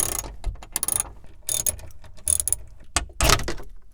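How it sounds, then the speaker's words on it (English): A ratchet wrench undoing nuts and hex screws on a rear windshield wiper motor assembly, bursts of rapid clicking ratchet strokes separated by brief pauses, loud and close, with no talking. "Now we just have to undo these 2 nuts and these 2 hex screws right here."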